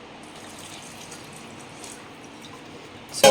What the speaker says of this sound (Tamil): இப்போது தண்ணி சேர்க்க போகிறேன்.